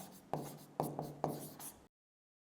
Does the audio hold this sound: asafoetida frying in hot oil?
no